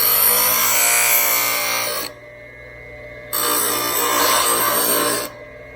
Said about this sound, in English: Now I just bring it over here to my grinding wheel, and it's real thin so it cleans up nice.